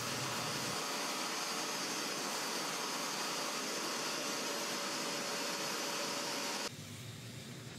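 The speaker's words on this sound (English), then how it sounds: "then you hit it with the extractor again to suck up as much of the dirt and contaminants" A carpet extractor vacuums fabric inside an old truck, a loud steady roaring whoosh that runs continuously and then drops sharply in level near the end.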